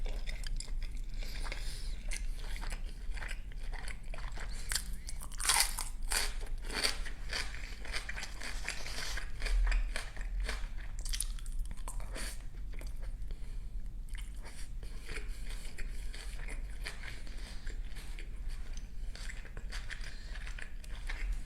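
Close, crisp chewing and crunching from eating Korean bossam boiled pork wraps, with soft wet bites and crackles repeating steadily throughout.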